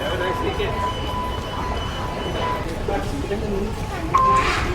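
Dubai Metro train sounds at a station: a steady rumble with a faint high whine and a louder burst near the end, carrying on under a voice.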